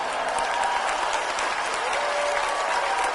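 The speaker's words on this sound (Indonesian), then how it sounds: "Sekali lagi tepuk tangan yang meriah untuk Menteri Pertahanan Republik Indonesia, Prabowo Subianto" A crowd at a national seminar in Indonesia applauds Defence Minister Prabowo Subianto, giving steady, dense clapping that stays loud and even from start to finish.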